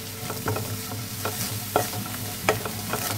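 A spoon scrapes and stirs a mixture of fried red amaranth greens in a pan, with soft sizzling and several sharp clinks and scrapes recurring every half second or so, close up and with no talking.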